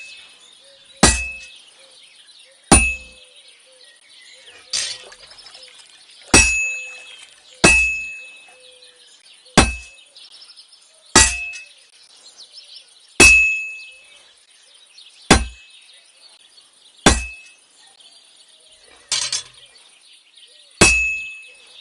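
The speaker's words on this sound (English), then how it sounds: "Besides the spark, you can tell a good strike by the sound it makes." Blacksmith hammer strikes ringing on an anvil in the video game Kingdom Come 2, about a dozen loud, bright metallic clangs spaced evenly roughly every two seconds, each decaying quickly over a faint steady background.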